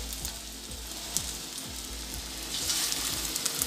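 Pumpkin flower fritters sizzle steadily in hot mustard oil, a dense close frying hiss with soft bubbling pops and occasional low clunks of a utensil, growing a little brighter toward the end.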